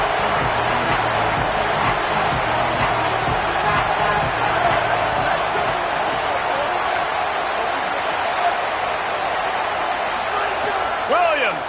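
A loud, constant wash of football stadium crowd noise at an Ohio State Buckeyes game, roaring and murmuring without pause, with occasional sharp thuds rising out of the din.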